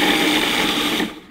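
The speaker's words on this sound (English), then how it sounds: "All right, blitz this up. You want it to resemble fine sand." A food processor blitzes graham cracker crumbs for a gluten-free cheesecake crust, giving a loud, steady whirring grind for about a second before it cuts off abruptly.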